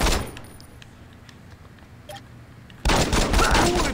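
Gunfire in the Saints Row video game: a few faint shots under a quiet stretch, then a sudden loud burst of rapid firing in the final second.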